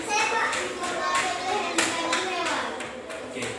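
Children clap together in a Catholic religion class, a run of roughly rhythmic claps with a few sharper accents, while children's voices chatter underneath.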